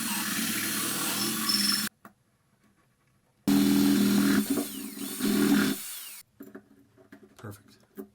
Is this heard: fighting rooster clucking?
no